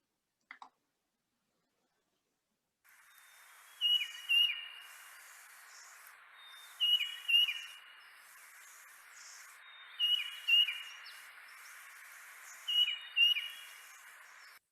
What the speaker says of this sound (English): we're going to hear what a tufted titmouse sounds like